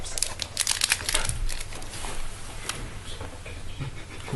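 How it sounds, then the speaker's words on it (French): A foil trading-card booster pack from a Yu-Gi-Oh! "Le Retour du Duelliste" box is crinkled and torn open by hand, giving close, busy crackling and rustling that thins out into softer handling noise. "Mizuryu ouvre son seul booster"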